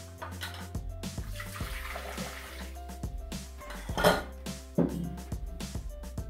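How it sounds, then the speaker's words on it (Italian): Water poured into a Thermomix mixing bowl while making crusty bread rolls, a steady splashing trickle in the foreground with light clinks of the bowl and utensils, no voices. "Mettere nel boccale l'acqua."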